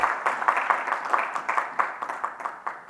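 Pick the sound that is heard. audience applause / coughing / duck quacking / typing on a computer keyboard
audience applause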